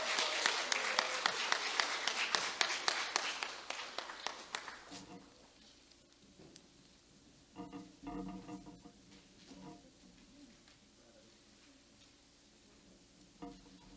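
Audience applause at a middle school awards ceremony fills the first five seconds with dense clapping, then fades into quieter room noise with scattered voices and a few brief bumps.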